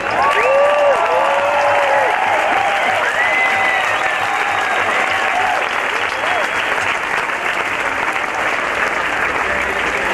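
Loud, steady applause from a large outdoor crowd at a Soviet-American peace walk rally in Golden Gate Park, continuous throughout, with scattered whoops and cheers rising above the clapping.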